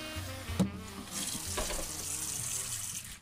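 Water runs steadily from a kitchen tap into a pot or sink while noodles are being prepared, a continuous splashing rush with a brief clunk near the start, fairly quiet and close.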